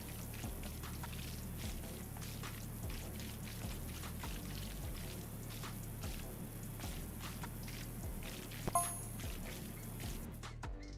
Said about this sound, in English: This is a perfect time to break out our surface cleaner.